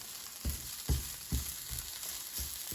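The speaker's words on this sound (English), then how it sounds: "I'm going to keep mixing it. So just mixing it every minute" Kale sautéing in a frying pan gives a steady sizzle, broken by about six evenly spaced low thumps and scrapes as the greens are stirred roughly every half second, close and alone with no talking.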